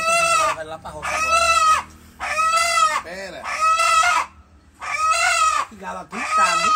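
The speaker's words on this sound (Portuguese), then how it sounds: "Que galo gritado" A rooster crows loudly and close by, five or six long strained calls in a row with short gaps, and a person briefly speaks between them.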